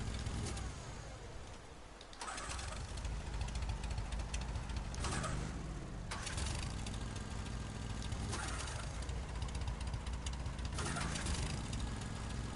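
Generator running in Fallout 4, a steady, fairly smooth mechanical engine drone that holds constant throughout with periodic swells in its higher hiss, close and continuous with no talk.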